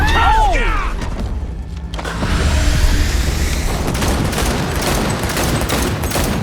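Video game gunfire rattles steadily for several seconds as a dense, continuous fusillade mixed with booming thuds, loud and close, after a brief whooshing effect at the start.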